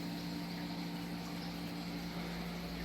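Water from a backyard water feature runs into a creek, a steady faint wash over a constant low pump hum with no pauses.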